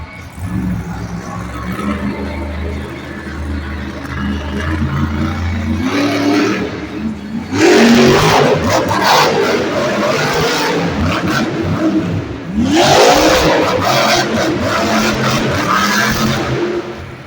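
Jurassic Attack, an Earthshaker monster truck at a Monster Jam show, revs its engine hard while spinning donuts, loud and continuous with surges, with crowd noise behind.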